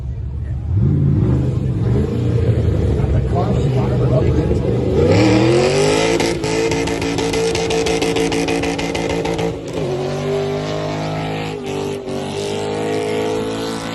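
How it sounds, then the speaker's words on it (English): A car engine at a car show fires up and revs, rising and settling in repeated surges, loud and close, with a rough throbbing idle between the revs and voices talking underneath. "The car was fired up."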